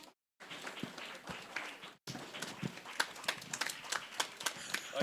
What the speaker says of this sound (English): Please, we can keep clapping.